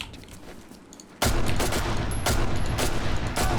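Gunfire in Condemned: Criminal Origins bursts in suddenly after a quiet moment, a loud run of close, rapid shots packed tightly together and lasting a few seconds.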